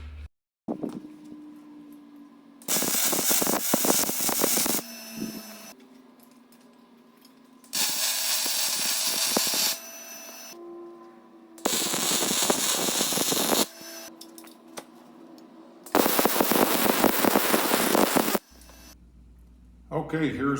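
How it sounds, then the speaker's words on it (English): Welding brackets onto a Jeep Wrangler TJ Dana 30 axle housing produces four sustained, loud, crackling, sizzling bursts of a few seconds each, separated by quieter pauses with a low hum. "so I'll do 2 welds per side on that bracket"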